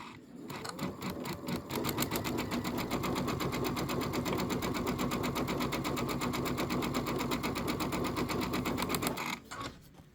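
A sewing machine fitted with a dual feed walking foot pieces fabric strips, running in a fast, even, rapid-fire stitching rhythm for several seconds before stopping.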